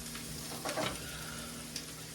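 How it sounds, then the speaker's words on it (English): Home-grown oyster mushrooms fry in a hot pan with a quiet, steady sizzle and a short burst of spattering about a second in. "I want them to fry. I really want them to get black on the outside and crispy."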